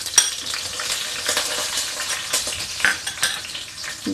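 Mustard seeds dropped into hot oil for Kerala-style seer fish, crackling and sizzling steadily up close, with sharp popping bursts and light metal spoon scrapes against the pan.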